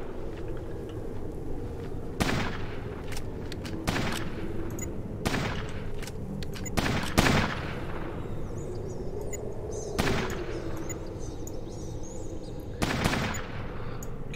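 Minigun burst fire in the tactical game Fallout Tactics sounds as a series of loud, separate bursts spaced a few seconds apart over a low ambient hum.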